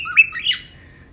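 A pet bird that has eaten too much watermelon lets out one sharp, loud squawk, followed by a short descending trailing call that fades within about a second.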